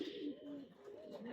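Tournament racing pigeons coo close by in soft, rolling, wavering tones. The sound is faint and brief, with a few overlapping calls.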